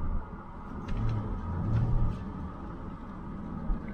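A Ford F350 pickup truck engine runs steadily as the truck drives, giving a low, continuous rumble with a slight swell in the middle. It sounds close and fairly quiet, with no voices.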